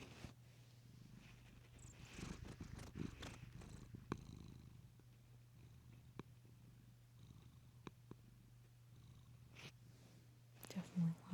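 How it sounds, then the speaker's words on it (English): A cat purrs close and faint as a steady low rumble that runs the whole time, under soft rustling and clicks, with a louder burst near the end. "That's him purring."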